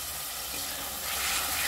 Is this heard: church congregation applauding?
no